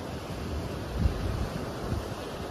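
Waves surge against coastal rock at a blowhole near Streaky Bay, Eyre Peninsula, with a deep, breathy rush of air like a heavy exhale, under steady wind noise nearby.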